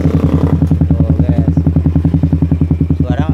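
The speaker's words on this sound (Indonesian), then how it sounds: "suaranya adem juga kan knalpotnya" Suzuki Satria FU motorcycle exhaust with the camshaft decompressor removed, idling with a rapid, even, bassy putter of regular pulses close to the mic, the firing steady throughout the short stretch.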